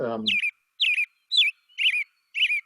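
Recorded song of either an American robin or a scarlet tanager: five short, evenly spaced whistled phrases repeating at a steady, regular rhythm, clear and isolated after a brief voice at the start.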